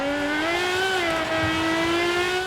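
Aston Martin Valkyrie engine in Forza Horizon 5, a loud, steady, high-pitched harmonic wail held close for the whole stretch with slight pitch rises and dips, no voices.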